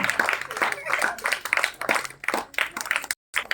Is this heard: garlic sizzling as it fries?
no